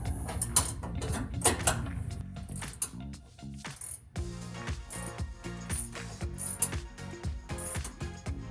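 Bracket nuts on the bumper of a 2007-2021 Toyota Tundra are tightened during a grille guard install, giving close, dense bursts of rapid metallic ratchet clicks that stop and start throughout.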